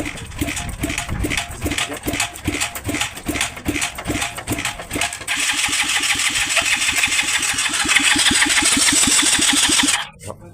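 A small motor engine, recently fitted with a cleaned carburetor and adjusted valves, runs steadily to push oil through, first with a rhythmic chugging pulse, then a louder, denser mechanical roar that cuts off abruptly near the end.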